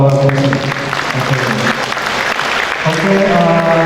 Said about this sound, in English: Just give a round of applause for our president.